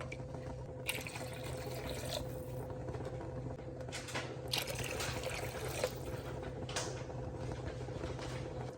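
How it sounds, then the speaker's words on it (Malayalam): Water poured into a pan of Kerala-style fish head curry with tamarind, a steady liquid trickle with a few brief louder splashes and handling clatter. "ആവശ്യത്തിനുള്ള വെള്ളം ഒഴിച്ചു കൊടുക്കാം നമുക്ക്."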